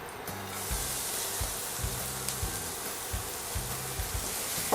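Onions sizzle in melted coconut oil in a pan on an induction hob, a steady close hiss with intermittent low tonal hums and clinks beneath it.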